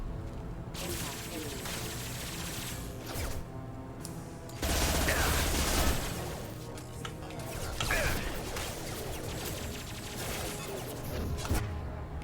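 Impact shot gunfire in Mass Effect 2 Remastered, a loud burst of weapon fire and mechanical clatter standing out from busy combat sounds, with voices talking over the action.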